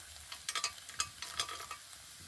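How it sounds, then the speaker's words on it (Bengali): A spatula scrapes and stirs a spiced peanut filling in a pan, giving a series of close, quiet scraping strokes in an uneven rhythm with light sizzle, no voices. "বাদামটা নেওয়ার পর একটু নেড়ে চেড়ে মিশিয়ে নেব"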